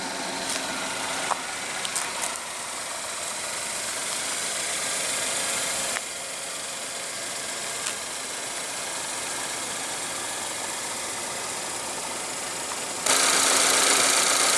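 A 2015 Buick Verano's 2.4 L inline four-cylinder idles steadily under the open hood, a constant close hum with a few faint clicks and a brief louder surge near the end; no one speaks.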